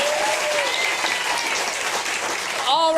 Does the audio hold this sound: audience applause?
yes